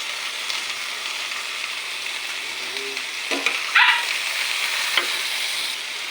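Bitter gourd and vegetables fry in a pan, a soft steady sizzle running throughout with a few scraping stirs of a utensil near the middle, close and moderately loud.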